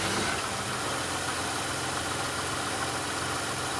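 A Toyota Camry with bad rubber mounts and a worn CV shaft idles in drive with the brakes held, a steady low engine rumble and faint vibration at moderate distance.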